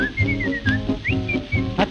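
A person whistles an imitation of a blackbird's song: short, bright melodic phrases and trills repeated over a steady musical accompaniment.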